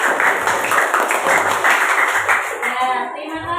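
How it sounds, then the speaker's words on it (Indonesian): A classroom group of pupils, the cat group, gets a round of hand clapping that runs steady and fairly loud for a few seconds, thinning out toward the end with some voices mixed in. "Beri tepuk tangan kelompok kucing"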